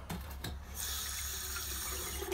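A tap in a shower and toilet block fed by a sewage plant setup runs with a steady rush of water after a few brief clunks and splashes at the start, close and continuous.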